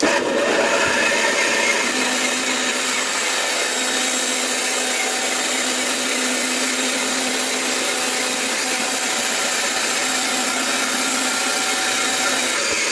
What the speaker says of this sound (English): using just a sheet of ABS, 1/4 inch thick, we're going to cut out a section that's roughly